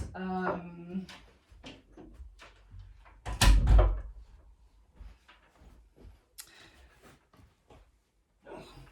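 An indoor door is pushed shut with a single sharp thud in the middle, surrounded by quiet shuffling and small handling noises in a room.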